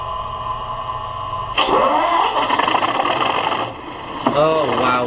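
Accurascale class 37 diesel locomotive model with DCC sound cranking and firing up, a rising starter whine that catches into a rough, throbbing engine note, then a second revving surge, heard close and fairly loud.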